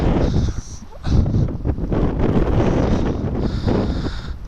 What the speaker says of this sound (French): le vent est relativement fort, on va faire attention